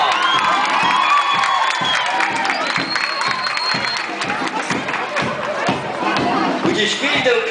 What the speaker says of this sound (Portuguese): Uma salva de palmas, pessoal.